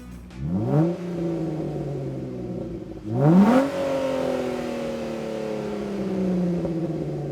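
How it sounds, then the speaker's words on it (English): A Jeep Wrangler's muffler-delete aftermarket exhaust revs twice, each throttle blip rising sharply to a loud roar then settling into a deep, rumbling idle between and after. "And here's a sound clip of this exhaust."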